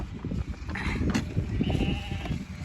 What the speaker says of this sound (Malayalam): അപ്പൊ ഇതാ ചെമ്മരി ആടുകള്